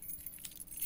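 A ring of keys jangles briefly and softly, a short metallic rattle heard up close with no voices.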